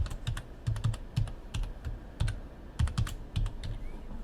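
Rapid bursts of keystrokes on a computer keyboard as a password is typed, close and clear, in uneven clusters with short pauses between runs and no talking.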